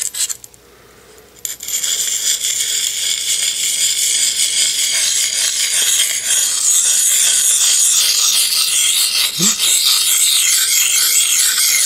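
A knife blade is drawn against a sharpening stone in a steady, continuous rasping grind that runs for about ten seconds after a brief quiet start. It is close and fairly loud, with no talking.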